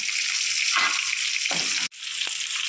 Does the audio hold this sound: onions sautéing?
yes